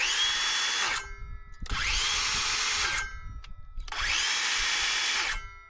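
A DeWalt DCS565 20V MAX cordless circular saw runs free three times in a row, each high whine winding up quickly and then cut off sharply by the blade brake, close and loud with short gaps between.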